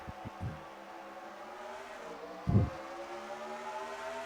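Race cars accelerating away at a green flag start at Indianapolis, a steady engine drone with rising tones and a brief louder burst partway through.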